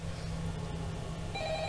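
A telephone rings in Five Nights at Freddy's VR Help Wanted, a brief electronic bell tone that starts near the end over a steady low hum.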